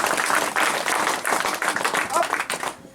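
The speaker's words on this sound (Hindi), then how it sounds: "एक बार सर जी के लिए फिर से ताली हो जाए।" Audience at a talk applauds the speaker, brisk, loud clapping from many hands that swells, then fades out at the end, with voices mixed into the clapping.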